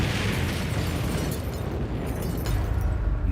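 A bomb explosion on a street roars as a loud, dense, sustained blast of rumbling noise that fills the whole clip without pause, with no voices heard.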